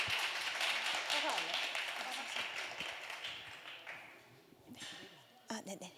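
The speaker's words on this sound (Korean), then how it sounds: "저희 박수로 김은빈 학생을 맞아주시면 감사하겠습니다" An audience at a climate-change talk during a festival claps to welcome a student speaker, a faint, dense patter of many hands that fades out after a few seconds, followed by a few scattered sounds.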